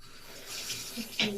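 Water runs from a tap as a face mask is rinsed off the skin, giving a steady close hiss with a brief louder splash near the end and no talk.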